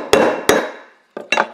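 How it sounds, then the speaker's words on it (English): A hammer strikes a .22LR brass casing used as a rivet on a metal weight, four sharp metallic smacks close by: two evenly spaced blows with ringing decay, a pause, then two quicker hits. "we're going to smack it with a hammer repeatedly until it does what we want it to."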